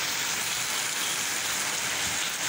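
Heavy rain pours steadily, a dense, loud hiss of drops drumming on surfaces that fills the whole stretch without a break.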